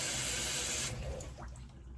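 Water sprays and rushes during a rinse with a Duvolle Radiance Spin-Care system: a loud, steady hiss for about a second, then a quieter, thinner trickle.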